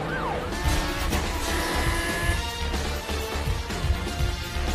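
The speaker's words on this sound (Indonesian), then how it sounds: "Setelah itu Frank mengejar Gianni menggunakan mobil." Car chase in a Jason Statham action film: engines roaring and surging with a brief tire squeal and rising whine, loud and busy throughout with no talk.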